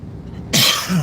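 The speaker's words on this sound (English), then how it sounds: "Except for me coughing and snuffing here," A single sharp, close cough follows a moment of quiet, trailing off with a short rough exhale.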